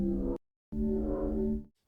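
A tonal, bassy hit repeats twice with a short gap, each a sustained droning note that cuts off abruptly, like a looped sample.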